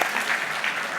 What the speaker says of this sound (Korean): 와, 응원의 박수.